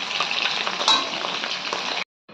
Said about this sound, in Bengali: চিকেনটাকে ফ্রাই করছি।